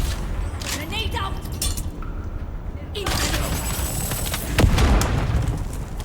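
Grenade blast amid gunfire in the video game Dune: Awakening, a boom rising out of dense shooting and game noise, with a player's voice speaking over the action.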